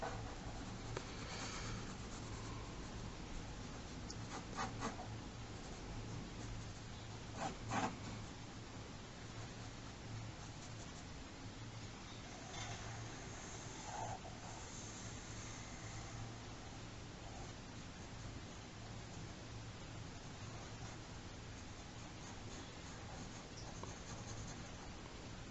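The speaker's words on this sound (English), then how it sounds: "I'll try and press a bit darker just so you can see. I'll sketch that in again." Pencil sketches a grim reaper drawing on paper, pressed darker, giving faint, continuous scratchy strokes and soft rubbing that come and go for about half a minute, quiet and close with no voices.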